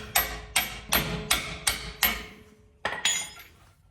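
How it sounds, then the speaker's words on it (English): Hammer blows driving a bolt through on a Jeep Wrangler JL during a lift kit install: five sharp metallic taps in steady rhythm, a short pause, then two more, close and fairly loud. "Take a hammer and just tap it through."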